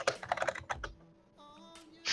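A computer keyboard clacks in a quick burst of loud keystrokes up close, then drops to a brief quieter pause before a final tap.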